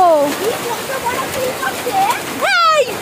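Hailstorm outdoors, with heavy rain and hail pattering and hissing steadily as a backdrop while people talk excitedly over it.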